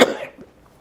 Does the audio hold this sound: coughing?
yes